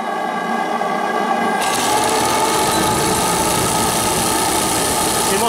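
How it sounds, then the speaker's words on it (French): A Stuart D10 double-ten live steam water pump runs at about 2.5 bar, a continuous mechanical whirring and rapid chuffing that thickens into a dense, bright hiss after a moment, steady and close. "merci Max, ta machine est d'une puissance époustouflante"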